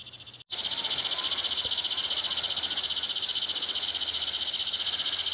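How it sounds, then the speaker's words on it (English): Outdoor chorus of cicadas near a campsite: a steady, pulsing high-pitched buzz that drones on continuously and loudly after a brief break near the start, with no voices. "The cicadas have come out."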